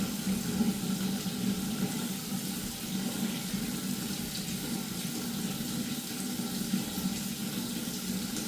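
Water pours steadily into a 125-gallon aquarium tank being filled, a continuous close rushing flow that holds at an even level throughout with no talk.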